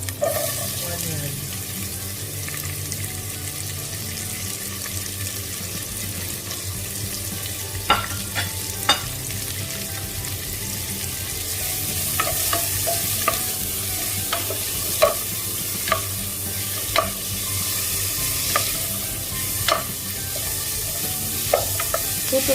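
Onion sautés with beef and ginger in a pan, giving a steady close sizzle with repeated clinks and scrapes of stirring and occasional running water, while someone talks over it.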